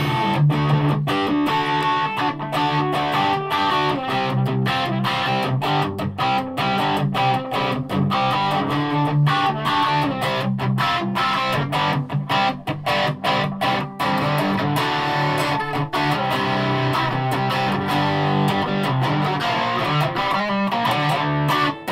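A Gibson Les Paul 50s Tribute electric guitar played through heavy distortion, dense and loud throughout, with sustained chords and picked notes ringing clearly with no voice present.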